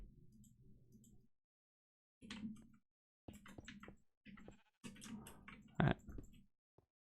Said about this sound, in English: Shut up, sheep.